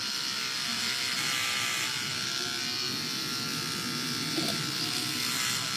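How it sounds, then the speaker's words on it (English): Electric hair clippers buzzing steadily as they shave the remaining hair off a person's head during a charity head-shave day, a continuous close whirring hum with no talking over it. "Shall we shave the rest of it off now?"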